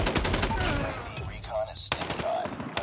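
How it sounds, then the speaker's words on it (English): Rapid automatic hip fire from an M4 LMG in Call of Duty Mobile, a fast, steady stream of sharp gunshots, fairly loud, with a brief pause midway before firing resumes. "I think the M4 LMG doesn't shoot that fast, usually."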